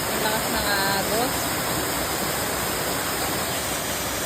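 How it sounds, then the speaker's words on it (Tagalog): A waterfall with a strong current roars in a continuous, even wash of rushing water close by, with a brief voice faintly heard near the start. "Nakita na yung falls na ipinunta natin. Ang lakas ng agos."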